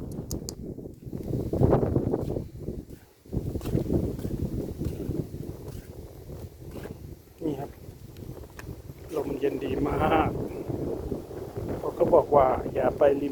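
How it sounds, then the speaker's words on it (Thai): Cool wind gusting at a cliff-edge viewpoint, Pha Sut Phaendin in Sai Thong National Park, Thailand, buffeting the microphone with steady low rumble throughout, with people talking over it. "ลมเย็นดีมากเลย"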